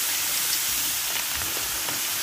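Mixed vegetables sizzle in a pressure cooker beside seared oxtail, making a continuous soft hiss with faint crackles and small pops throughout. No one speaks.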